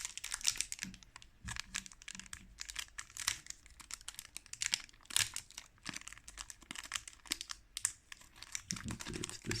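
Close, crisp crinkling and tearing of a foil trading card pack being ripped open by hand, with irregular bursts of rustling and crackling throughout and no voices.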